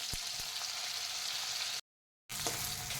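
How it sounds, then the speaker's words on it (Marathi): A ground spice paste fries in oil with a soft, steady sizzle nearby. A short silent break splits the frying, which then resumes at the same low level. "वाटण जे आहे ते आपल्याला तेलामध्ये चांगलं भाजून घ्यायचं आहे"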